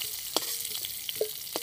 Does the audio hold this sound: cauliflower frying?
yes